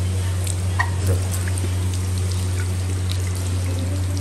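Tap water runs steadily into a sink as a child washes hands standing on a stool, a constant close pouring stream with a few small splashes and a low hum beneath.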